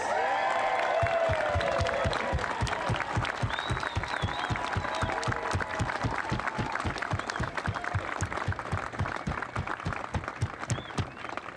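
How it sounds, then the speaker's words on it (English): An audience applauds an honoree, dense continuous clapping mixed with some cheering and whoops, steady and fairly loud throughout without a break. "Ladies and gentlemen, a round of applause for Lennie Roberts."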